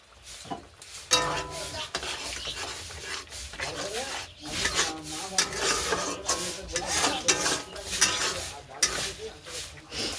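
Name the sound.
sautéing spice paste (masala) in a pan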